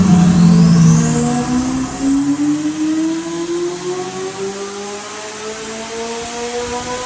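A 2026 Chevrolet C8 Corvette Z06 with a twin-turbo engine on 93 octane, 800-plus wheel horsepower, accelerates hard on the street, its loud engine note climbing steadily in pitch through the run, then easing slightly, alone with no talk.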